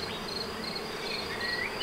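Honeybees at a beehive buzz steadily in a dense, continuous hum, with individual insects whining past nearby.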